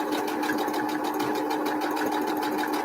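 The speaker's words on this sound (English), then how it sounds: "Find the middle, sew across." A sewing machine runs continuously while stitching across fabric, a steady fast mechanical whir with rapid needle ticking, close and unbroken.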